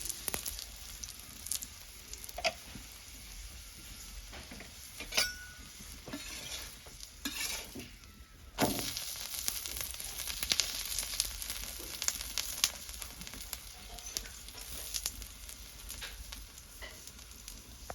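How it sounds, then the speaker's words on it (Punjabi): A pizza paratha cooks in a pan and is flipped over and over: a soft, steady sizzle of frying with repeated scraping and knocking of a spatula, all close and without speech. "ਲਓ ਜੀ ਹੁਣ ਇਹਨੂੰ ਆਪਾਂ ਪਲਟ ਪਲਟ ਕੇ ਚੰਗੀ ਤਰ੍ਹਾਂ ਪਕਾ ਲੈਣੇ"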